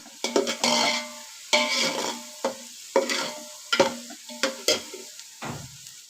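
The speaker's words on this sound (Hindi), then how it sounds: "प्याज अच्छी तरीके से फ्राई हो जाएगी" Onions sizzle in a pan for chicken biryani, stirred in repeated bursts of scraping and clatter against the metal, with the frying hiss swelling and fading between strokes.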